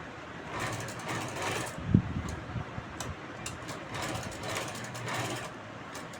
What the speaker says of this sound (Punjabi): ਜਿਹੜੀ ਆਪਾਂ ਸਲਾਈ ਮਾਰਾਂਗੇ ਬਰੀਕ ਰੱਖ ਕੇ